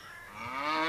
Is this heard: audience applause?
no